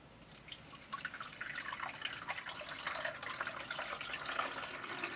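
Four cups of water pour steadily into a container for making chicory coffee, a continuous splashing trickle that builds from a quiet start and runs on without talk.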